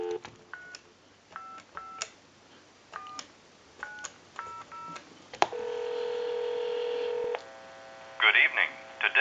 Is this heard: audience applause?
no